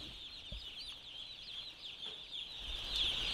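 Broiler chicks in a brooding house under LED lighting, a dense, steady chorus of high peeping from many birds close by, with a few faint soft knocks underneath.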